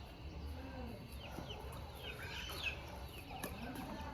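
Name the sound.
neighbours' chickens clucking while chased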